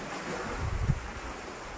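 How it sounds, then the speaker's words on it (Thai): Cool wind blowing outdoors, a steady broad rush with a slight gusty swell in the middle, no talk. "ลมพัดเย็นดีจังเลย"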